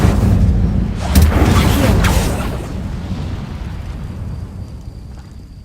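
A loud Incendio fire spell blast in Hogwarts Legacy on PS5 booms and roars, then rumbles away gradually over several seconds with no talk.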